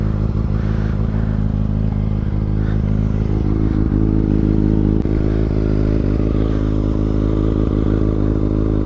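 A 2022 Kawasaki ZX6R 636 with an M4 slip-on exhaust idles and revs close by, a loud, steady, deep engine drone with rising blips of throttle and a faint mechanical clatter.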